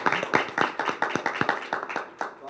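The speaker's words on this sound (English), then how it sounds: "let's give everybody a round of applause" A small audience at a 2022 school spelling bee claps briefly, a short burst of distinct, fairly sparse hand claps that thins out and stops after a couple of seconds.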